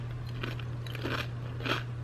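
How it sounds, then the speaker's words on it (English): Crunching bites of pumpkin spice cereal, three distinct crisp chews spaced about half a second apart, close and moderate over a steady low hum. "I feel like it's not annoying to listen to me crunch"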